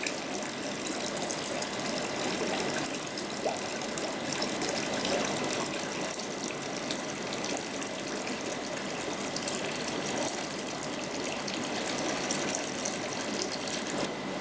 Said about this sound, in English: you've gone round your whole tank with the gravel cleaner